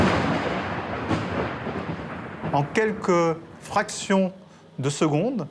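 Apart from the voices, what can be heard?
thunder from a lightning strike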